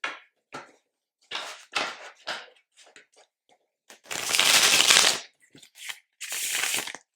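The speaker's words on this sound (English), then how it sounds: "Let me shuffle it for you." A Marseille tarot deck being hand shuffled, with soft papery card riffs and slides in short bursts, two longer dense shuffling runs near the end, heard close and alone.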